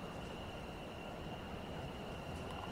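A London Overground Class 710 electric train pulls away on the Gospel Oak to Barking line in Train Sim World 4, giving a steady rumble of wheels on rail with a faint whine, heard alone at moderate distance.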